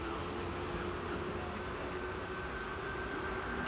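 An EasyJet airliner taxiing at Edinburgh Airport near runway 24, a steady distant engine hum and whine, faint and continuous without talk.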